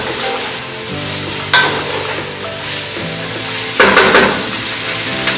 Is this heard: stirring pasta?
yes